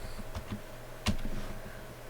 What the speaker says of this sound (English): So now we come over here and we type in DDR4 RAM.